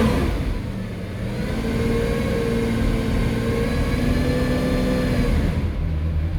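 A Lamborghini Aventador LP750-4 SV engine runs loud and close. It holds a deep, sustained drone, with a rise and fall of revs in the middle and a brief dip near the end. Nobody speaks.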